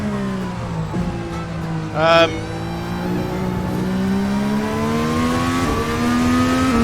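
An Indy car engine from a Formula NA 2021 racing sim winds through its gears, the loud engine tone rising and falling steadily as it brakes and accelerates, with a short burst of a higher whine partway through.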